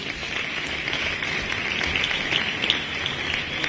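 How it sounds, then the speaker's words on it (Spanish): Audience applause rings out steadily and fairly loud throughout, dense, continuous clapping from a crowd with no pauses. "¡Aplausos para Luis!"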